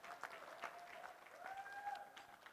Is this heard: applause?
yes